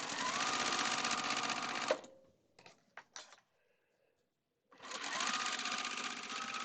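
A sewing machine stitches a quilt facing strip in a fast, steady whirring run up close, pauses for a few soft clicks and handling noises, then starts stitching again.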